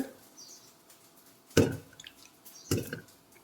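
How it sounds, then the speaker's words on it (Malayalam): Water is poured into a small pressure cooker holding whole peeled potatoes, two brief close splashing gushes against an otherwise quiet kitchen. "ഇത് വേവാനാവശ്യമായ വെള്ളം മുങ്ങാൻ പാകത്തിന് നമ്മൾ ഒഴിച്ചു കൊടുക്കുന്നു"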